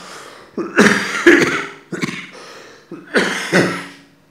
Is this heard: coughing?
yes